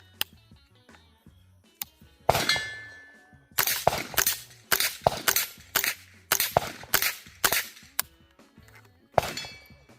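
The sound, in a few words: suppressed .22 rifle shots, HUXWRX Flow 22 Ti suppressor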